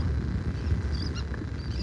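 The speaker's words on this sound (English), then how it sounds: "Just watching the birds feeding here up at the point at Wiggins Pass" Birds feeding at the point of Wiggins Pass beach in North Naples, Florida, giving a few brief distant honking calls over a steady roar of surf and wind.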